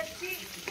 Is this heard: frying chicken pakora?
yes